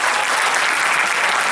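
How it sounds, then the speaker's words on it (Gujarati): Dense, continuous applause from a live audience at a stage show with a comedian and musical group, loud and steady throughout with no pause or talk. "એટલે કોઈ પણ જેવું પરફોર્મન્સ હોય તો આપણે એમને તાળીઓથી બતાવવું જોઈએ."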